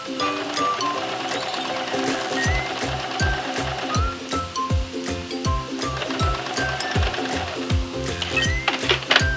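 A sewing machine stitches along the edges of a fabric strap for a glass holder made from scrap cloth, its needle clattering in quick regular bursts with pauses between runs, close and fairly loud with no talking.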